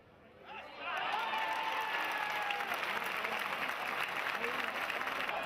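A bullring crowd bursts into applause for the dragged-out bull and the novice bullfighter from Calasparra, the clapping swelling within a second into a sustained, dense ovation with some crowd voices mixed in.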